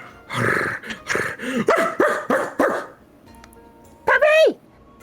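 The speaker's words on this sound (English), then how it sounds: "Did you just hear barking?" A dog barks in a quick run of about six loud, close barks, then after a pause gives a single high yelping whine.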